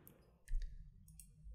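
A computer mouse clicks while Alt-clicking markers in After Effects, a few crisp, light clicks in quick succession. The clicks are close and quiet against a soft low background, with no talking.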